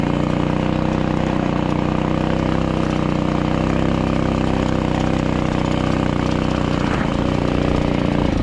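Off-road mini quad's small engine runs steadily and loudly throughout, a continuous droning hum with a slight change in tone near the end.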